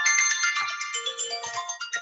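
A timer alarm rings through a podcast recording as a bright, repeating electronic melody of high tones, loud and clear with no talk over it.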